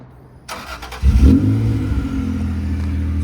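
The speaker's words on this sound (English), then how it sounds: "First we'll start up the car and do a quick light operation." A 20,000-mile 1993 Acura NSX with a 5-speed manual cranks briefly, then fires up with a loud burst and a quick rev before settling into a steady, throaty idle close to the microphone.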